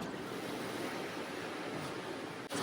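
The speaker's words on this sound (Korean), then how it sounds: "파도가 저쪽에 너무 많이 치니까 안 보여." Winter waves crash and wash along the East Sea shore as a constant roar of surf mixed with wind buffeting the microphone, with no voices.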